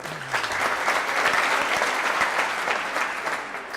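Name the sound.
crowd applause at All-Ireland handball final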